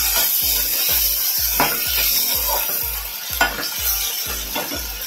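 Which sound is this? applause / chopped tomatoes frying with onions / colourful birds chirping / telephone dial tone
chopped tomatoes frying with onions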